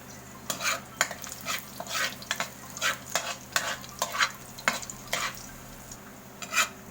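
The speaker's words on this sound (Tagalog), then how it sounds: "pagka golden brown na ang garlic, susunod natin ang sibuyas" Garlic and onion sauté in a hot pan for spicy laing, with a soft continuous sizzle under repeated scraping strokes of a spoon or spatula against the pan, about a dozen close, rhythmic stirs.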